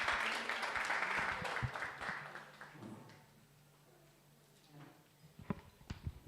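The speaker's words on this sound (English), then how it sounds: "Shall we please welcome her with a round of applause?" Audience at a forum applauding a speaker's welcome, a brief burst of clapping that fades into quiet room tone, followed by a few isolated taps and thumps.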